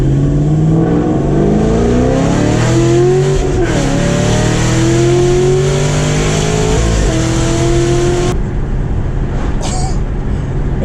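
Chevrolet Camaro ZL1 accelerating hard with the throttle held flat through no-lift shifts: a loud, near engine roar climbs in pitch, drops abruptly at each shift and climbs again, then the revs fall away near the end.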